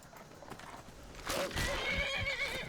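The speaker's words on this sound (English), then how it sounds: "No, the horse has gotten involved." A horse in the video game Skyrim lets out a loud, drawn-out neigh with clopping hooves and combat noise around it, close and prominent.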